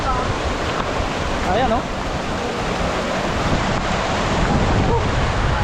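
Rushing water from Dipalo Falls flowing along the Dipalo River in San Quintin, Pangasinan, a steady broadband roar with gusty wind buffeting the microphone and a brief voice speaking over it.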